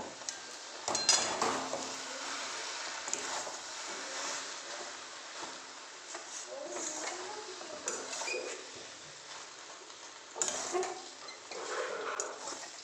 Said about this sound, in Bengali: সোয়াবিন আর আলু যেগুলো ভেজে রেখেছিলাম সেগুলো এখন এই মশলাটার মধ্যে দিয়ে দিলাম দিয়ে এটাকে এখন ভালো করে আমি একটু কষিয়ে নেব